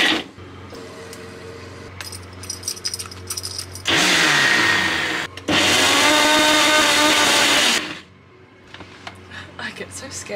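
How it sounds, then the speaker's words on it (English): A kitchen blender roars loudly making a smoothie in two long bursts with a brief pause between, then cuts off, leaving quieter background sounds and faint activity. "I thought it'd be nice to whip out the blender and make a smoothie."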